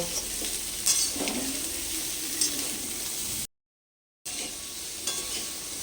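Prawns and potatoes frying over high heat in a covered pan give off a steady, close sizzle with faint clinks of the lid and utensils. There is a brief dropout partway through, and then the frying continues.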